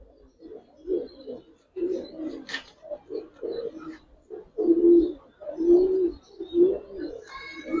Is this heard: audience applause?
no